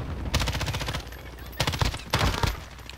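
Gunfire in a team-based battle royale video game: loud rapid automatic bursts, one long volley followed by two shorter bursts after a pause, close and sharp, with faint voices underneath.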